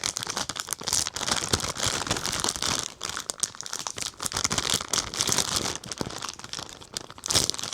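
A plastic Ziploc storage bag being handled and crumpled, with continuous loud, close crinkling and crackling that comes in dense bursts throughout, no voices.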